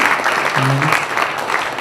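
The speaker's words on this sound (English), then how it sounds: "A big round of applause for our speakers this morning." Warm, continuous clapping from a seated audience at a morning open talk session at the Himalayan Travel Mart 2018. A brief voice sounds under the dense applause.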